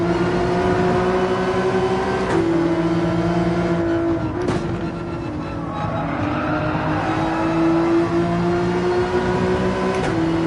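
Race car engine held in third gear on the Deep Forest circuit in Gran Turismo, a loud steady drone with slight pitch shifts and brief tire squeals, continuous throughout.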